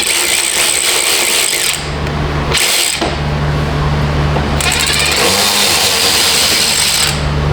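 Power tool backing out two screws on a Nissan Frontier under repair, two loud whirring bursts of a drill or driver close up, each cut off abruptly, over a steady engine hum.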